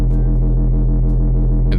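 Wavetable synth sub bass set two octaves down at high level with the noise layer switched off, playing alone as a steady, loud, deep throbbing tone with a pulsing rhythm, cutting off near the end.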